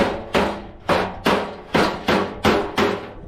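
A flat hammer strikes a flat dolly to straighten the seam of a steel front fender on a 1955 Triumph TR2 under restoration. Seven sharp, evenly spaced metallic blows ring close and clear, each decaying briefly.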